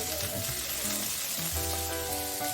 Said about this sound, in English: add the chopped capsicum into it. Stir this as well for a few seconds, and then add a little bit of sugar